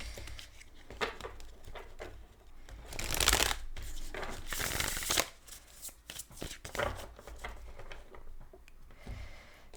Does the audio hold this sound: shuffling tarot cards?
yes